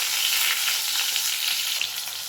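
Tomato dropped into a little hot oil in a wok for cabbage chilli, producing a loud, dense, continuous sizzle up close that barely fades over a couple of seconds.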